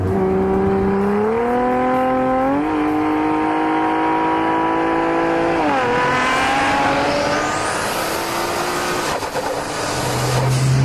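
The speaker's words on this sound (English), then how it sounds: "This car has a beautiful cacophony of mechanical sounds." A 1400 hp AMS Alpha 12 Nissan GT-R engine loud and close, its revs climbing in stepped pulls with shifts between them, then a rising turbocharger whine sweeps upward over the rough mechanical roar near the end.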